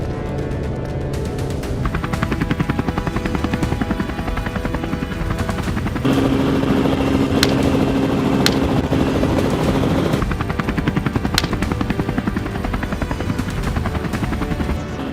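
A helicopter flying during aerial hunting of coyotes and feral pigs on farmland, its rotor thumping loudly and continuously at close range throughout, with a sharp crack or two over the drone.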